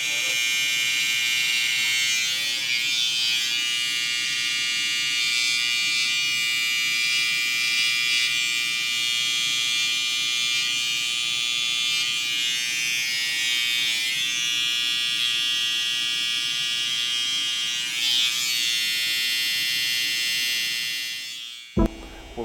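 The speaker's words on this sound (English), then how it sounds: "sculpting a little bit more with the trimmer that's 0 gap, just to reveal the hairline" A zero-gap electric hair trimmer buzzes steadily and closely for about twenty seconds while cutting hair along a hairline during a taper haircut on an afro, then switches off abruptly.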